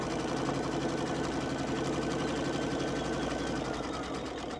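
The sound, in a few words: sewing machine stitching a quilt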